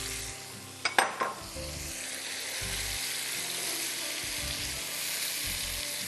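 Chicken curry with yogurt sizzles and fries steadily in a pan, a continuous hiss with a couple of brief utensil clinks near the start.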